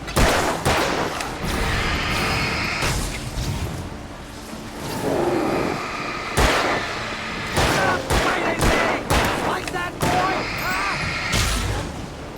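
Repeated gunshots and booming fire from the video game Alan Wake Remastered, loud bursts scattered through the stretch with brief gaps, while someone talks over the action.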